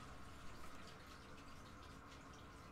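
Steady rushing of water running through a pipe behind a wall, a continuous broadband hiss with faint gurgling, constant in level and fairly quiet throughout.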